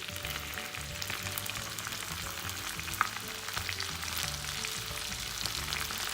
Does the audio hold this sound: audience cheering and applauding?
no